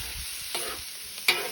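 Beef, prawns and vegetables for a stir fry sizzle on a Weber barbecue, a steady faint hiss with a few soft clicks of stirring and one sharper clatter near the end.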